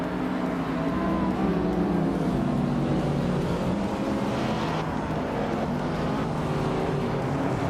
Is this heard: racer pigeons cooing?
no